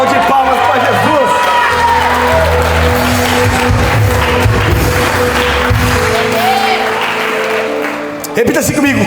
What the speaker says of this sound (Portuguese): dá um grito de glória, dá uma salva de palmas para Jesus